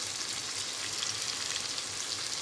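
Ingredients for red lentil khichdi fry in a pan, giving a continuous, even hiss of oil at moderate volume with no talking.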